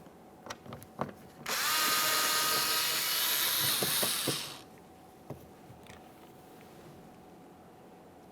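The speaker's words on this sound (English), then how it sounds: "To remove the mounting screw, we'll be using a T20 Torx bit." A power drill fitted with a T20 Torx bit backs out a mounting screw on a GMC Acadia front exterior door handle, one loud sustained whir of about three seconds, close up, framed by small clicks and handling noises before and after.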